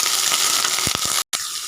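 Small shallots, chopped and measured at about one and a half cups, sizzle in hot oil with a steady, loud hiss. A few soft clunks come through it, then there is a sudden brief gap before the frying resumes.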